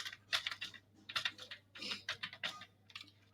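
Computer keyboard typing as an address is entered into accounting software, rapid bright key clicks in uneven clusters with a low steady hum underneath, close and quiet, no talking.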